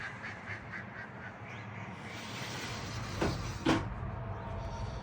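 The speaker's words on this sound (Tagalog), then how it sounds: "Ganito magpakain ng mga gansa." A few short quacks repeat early on, followed by two sharper knocks and a steady outdoor rustle, as ducks and geese gather nearby at a lake in cold weather to be fed bread.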